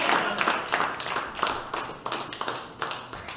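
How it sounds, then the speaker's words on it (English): A comedy club audience claps at the end of a live stand-up show, a short burst of scattered, uneven clapping from a modest crowd with some voices mixed in. "Clap. One more time."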